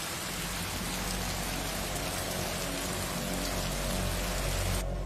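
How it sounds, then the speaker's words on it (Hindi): Heavy rain pours down in a dense, steady hiss of drops hitting surfaces, constant and loud throughout with no voices. "लगता बहुत बारिश हुई है,"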